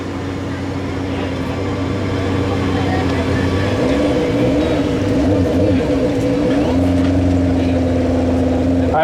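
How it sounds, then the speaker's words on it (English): A modified pulling lawn tractor engine at a tractor pull runs loud and continuous, a steady droning rumble that shifts pitch as it works. "Another beautiful pulling lawn tractor."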